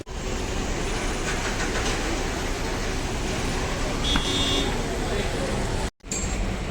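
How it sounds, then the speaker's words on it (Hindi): At New Delhi metro station, trains give a steady, loud, broadband rumble with faint tonal beeps, briefly cutting out near the end, while voices murmur in the background. "ये न्यू दिल्ली मेट्रो स्टेशन है।"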